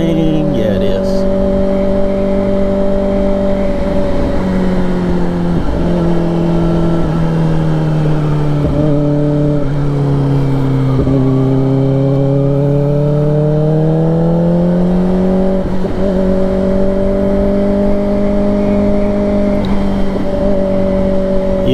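A 2024 Kawasaki Ninja ZX4RR motorcycle engine hums and rises in pitch as it accelerates, steady and close throughout, with a wavering tone through the middle as the throttle eases and builds again.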